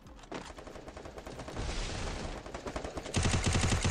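Rapid bursts of gunfire in a 4v4 online shooter match, clattering shots that build in density and end in a louder, tightly spaced automatic volley near the close, with no talk heard.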